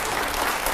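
Studio audience breaks into loud, dense applause at a televised Hindi news debate, a steady wash of clapping filling the whole moment with no voices over it.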